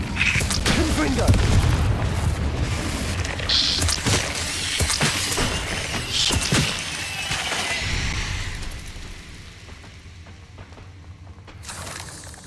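Fire spell explosions in Hogwarts Legacy: repeated booming blasts and crackling bursts in a loud, dense game battle mix, fading toward the end.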